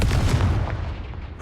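A Confringo fire spell explodes in the video game Hogwarts Legacy, giving a single loud, close boom that fades over about a second.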